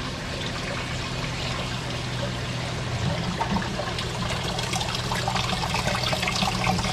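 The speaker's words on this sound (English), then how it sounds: "See the water just dripping down on the roots." Water trickles and drips steadily onto plant roots in a hydroponic greenhouse system, a soft continuous flow that grows slightly busier in the second half, fairly close and quiet with no voices.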